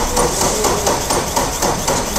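A small engine, apparently a generator motor after being doused with water, runs in the reverse direction with a rapid, rough knocking chatter, loud and close, steady throughout with no talk.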